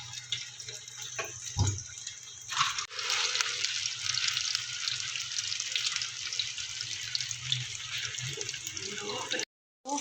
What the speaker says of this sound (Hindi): वो फ्लेम पर रख के जो है मैं इनको फ्राई करूँगी